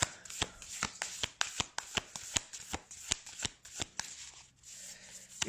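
Tarot cards shuffled by hand in a steady run of crisp riffling snaps and soft slaps, close and clear, with a short pause near the end and no talking.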